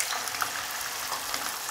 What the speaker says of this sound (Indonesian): kemudian digoreng seperti ini sebentar saja, tuh rasa gurihnya muncul